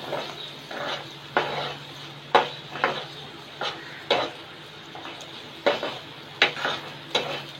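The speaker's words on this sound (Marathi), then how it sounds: "कांदा आणि टोमॅटो आपल्याला व्यवस्थित इथे परतून घ्यायचा आहे।" Onion and tomato sautéing in a pan for a Kokani-style egg curry, a low sizzle under repeated rhythmic scrapes and knocks of a spoon against the pan, close and steady with no talking.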